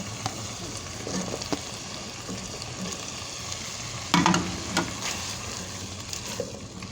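Capsicum and softened potatoes cooking in a pan give off a constant sizzle with occasional clinks and stirring scrapes, including one louder stir midway, heard close and with no one speaking.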